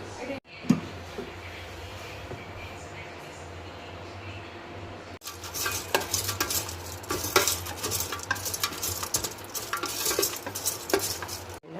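Ivy gourd stir-fry being stirred in an air fryer basket, a spoon scraping and clinking against the metal amid light sizzling, louder and busier in the second half, alone without voices.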